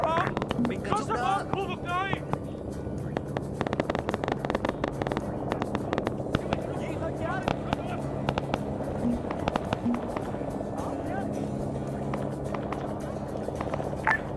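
Artillery shells exploding on a jungle landing zone in Arma 3 SOG Prairie Fire, a rapid series of sharp blasts and cracks amid rumbling engine or rotor noise, with radio voices talking intermittently.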